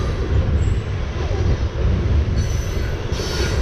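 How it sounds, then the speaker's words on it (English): A coal train rumbles steadily past up close, with heavy low wheel noise and a faint high metallic squeal running throughout. "That train's definitely a coal train for that."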